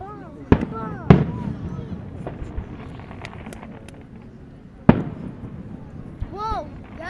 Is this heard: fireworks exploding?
yes